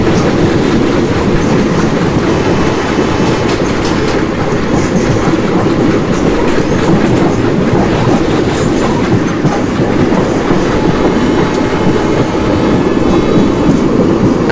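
Locomotive hauling a Bhusaval–Katni passenger train in the Open Rails simulator, a loud steady rumble with continuous clickety-clack of wheels on rail joints throughout, no talking.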